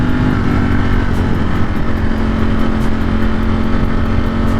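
A Ducati Streetfighter motorcycle engine drones loud and close while riding, a steady low throbbing roar held at fairly constant revs with rushing wind noise and no talk.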